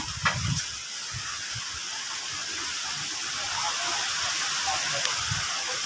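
Steady roaring rush of strong wind from Super Typhoon Pepito in Muñoz, Nueva Ecija, Philippines, a broad continuous hiss with low gusty rumbles, no voices.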